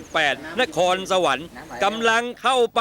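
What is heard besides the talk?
None of the usual background noises is heard.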